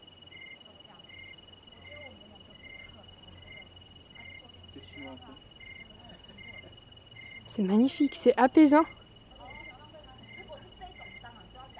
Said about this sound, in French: Vous entendez, c'est des crapauds, sauterelles, grillons.